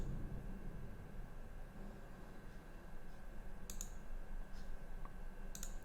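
A computer mouse clicks a few times while someone works in Appliance Designer software. The clicks are faint, sharp and spaced apart, heard against a quiet background hiss.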